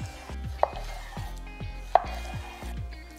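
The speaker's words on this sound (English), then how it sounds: "I'm going to cut this into 1-inch pieces." A knife chops salmon into 1-inch pieces on a board. The blade strikes in a steady, close rhythm, with two sharper clacks.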